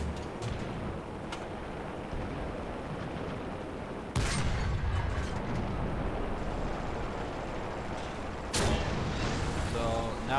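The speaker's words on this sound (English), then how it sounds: "And here comes my multiple artillery strikes." Multiple artillery strikes and gunfire in the War Thunder tank game, with rumbling battle noise broken by two sharp, loud blasts midway and near the end, heard with no voices.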